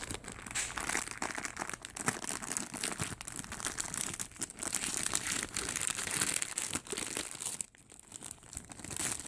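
A plastic bag sealing a paper planner crinkles and rustles steadily and up close as it is handled and unwrapped, with a brief pause near the end before the crackling resumes.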